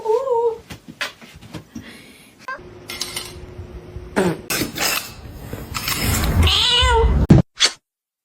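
A cat meows close by several times, with wavering cries, amid clattering dishes and cutlery and other household noise.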